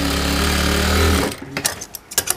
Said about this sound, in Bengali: এই যে আমি চাপ সেলাই দিলাম।